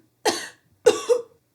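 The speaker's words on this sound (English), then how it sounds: "I'm just going to do a cough" Two deliberate coughs, close and fairly loud, a short one followed after a pause by a longer double-burst cough, with silence around them.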